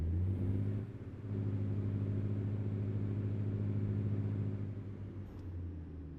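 A truck engine in American Truck Simulator drones with a steady low harmonic rumble, dipping briefly then holding an even pull, close and fairly quiet with no talking.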